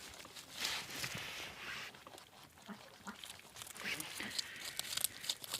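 Faint, irregular crunching and nibbling of small animals chewing food close by, in quick soft bursts.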